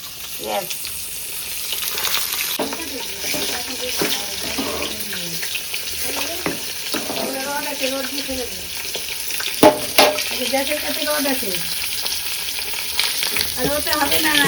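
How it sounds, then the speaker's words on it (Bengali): Potatoes for a meat curry fry in a small kadai over a wood fire, a steady close sizzle running throughout with occasional stirring clatter and faint voices in the background. "মাংসের আলু ছোট কড়াইতে ভাজছে"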